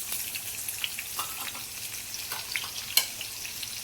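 Onions frying in hot oil in a frying pan, a close, steady crackling sizzle dotted with small pops and one sharper spatter.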